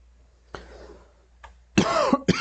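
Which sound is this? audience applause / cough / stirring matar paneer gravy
cough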